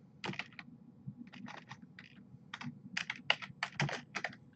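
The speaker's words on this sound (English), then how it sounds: "I'm always a little rough at typing early in the morning" Quick, light clicks of typing on a computer keyboard come in irregular bursts and short runs, close but quiet over a faint low background hum.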